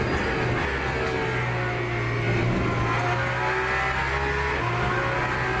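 A race car, an Aston Martin Valkyrie or Mercedes-AMG, drives out on track for a 12-lap stint, its engine a loud, continuous drone with shifting pitch heard from inside the car.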